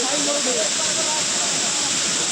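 A rushing waterfall roars as a dense, loud, continuous hiss of falling water close by, with a voice faintly audible beneath the roar.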